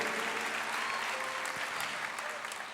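Applause in praise of God fills a church conference hall, a steady wash of many hands clapping, moderately distant and sustained throughout, with some voices mixed faintly beneath.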